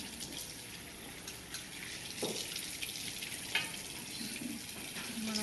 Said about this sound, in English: And then I'm going to rinse the rest off.